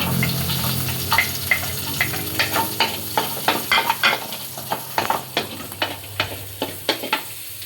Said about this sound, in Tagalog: Maglalagay tayo sibuyas bawang.